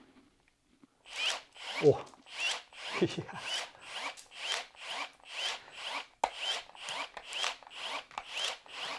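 A Milwaukee 12V cordless heavy-branch pruning shear, in its narrow-blade mode, cuts through a dry, very hard branch. Crisp bursts repeat steadily at close range, with a brief spoken exclamation near the start.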